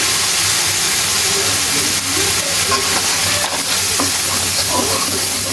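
Freshly cut fish cooks in a hot pan with a loud, continuous hissing sizzle and scattered clinks and scrapes of stirring throughout, with no voices.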